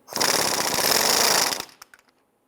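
A power impact tool with a 15mm socket loosens a nut on the outer tie rod of a 1999-2004 Jeep Grand Cherokee, one loud rattling burst of about a second and a half that cuts off sharply, followed by a few small clinks.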